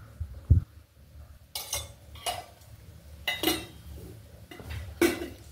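Rice flour dough is stirred into boiling water with ghee in a pot, giving sporadic scraping knocks and clinks of a spoon against the metal, several separate strokes, fairly quiet and close.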